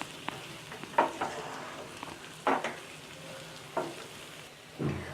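Chettinad chicken chukka with curry leaves sizzles softly in a pan, broken by four or five distinct scraping stirs spaced about a second apart.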